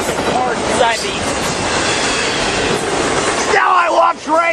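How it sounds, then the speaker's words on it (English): CSX freight train rolling past at night, dense continuous rumble and wheel clatter close by, with brief squeals, a shout and cheering voice over the noise near the end. "Nothing like a CSX unit on a train."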